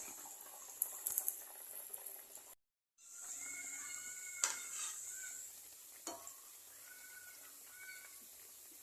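Sweet potato vadas deep-fry in hot oil, giving a quiet, steady bubbling sizzle with small pops and crackles, briefly cut to silence partway before the soft frying resumes.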